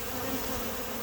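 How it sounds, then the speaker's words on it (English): Steady buzzing drone from a large three-year-old beehive of thousands of bees inside the roof of a residential home, a continuous close hum filling the whole moment without any voices. "this is a very large hive"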